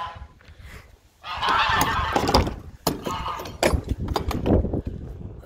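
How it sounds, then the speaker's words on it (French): Geese honk loudly and repeatedly in a farm courtyard at a rural property in Eperlecques, France, with a harsh, overlapping chorus of calls after a brief quiet start. "Toujours ces oies."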